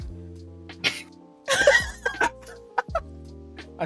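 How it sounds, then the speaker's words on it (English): A person sneezes and coughs in bursts after eating an extremely spicy nut, with short sharp explosive sneezes, one loud cluster in the middle and a few smaller ones around it, close to the microphone. "Bro, I can't stop sneezing."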